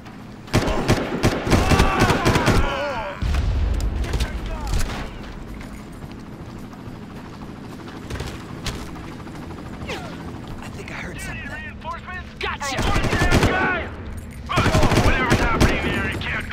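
Gunfire in the video game Far Cry: loud bursts of automatic fire open and close the stretch, with quieter scattered shots and rumbling between them.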